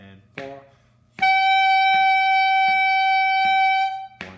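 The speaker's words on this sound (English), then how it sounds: "And we're going to make some honking sounds for about" A brief spoken voice comes first, then a reed instrument sounds one loud, steady honking long tone for about three seconds before stopping, with faint beat taps under it.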